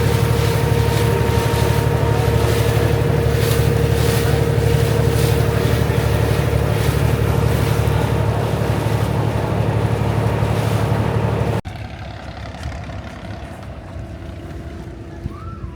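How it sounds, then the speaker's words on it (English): Steady wind and water noise around a moving rowing boat in the Mekong Delta, Vietnam, loud and constant, cutting to a quieter, calmer background near the end. "Now we will do the rowing boat"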